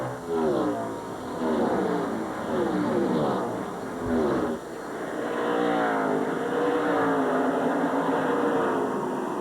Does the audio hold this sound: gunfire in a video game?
no